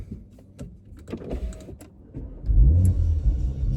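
2018 Audi RS5 2.9 V6 TFSI Quattro coupé with exhaust valves open: a few sharp crackles and pops, then a deep, close engine rev that swells loudly and holds toward the end.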